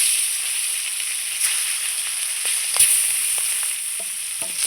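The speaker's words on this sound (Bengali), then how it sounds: "এইবার আমি বাদবাকি মাছগুলো ভেজে নেব।" Hilsa fish frying in mustard oil, a continuous bright sizzle and hiss from the pan with a few soft spatters and pops, steady and close with no talking.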